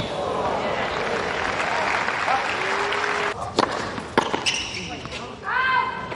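Tennis crowd at a mixed doubles match, France against Australia, cheering and applauding loudly with a steady roar that breaks into scattered claps and shouts, while a commentator talks over it.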